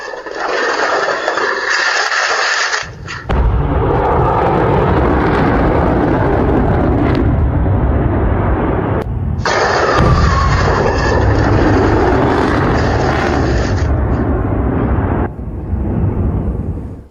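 Hundreds of pounds of firecrackers explode in a loud, sustained roaring blast with rumbling and crackling, broken by brief dips, burning on continuously.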